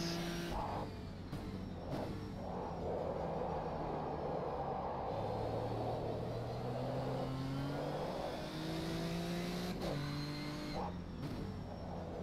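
Nissan 370Z in the rFactor 2 racing sim, engine droning steadily and rising in pitch through repeated gear shifts, with a brief lift-off between runs, loud and continuous with no talk.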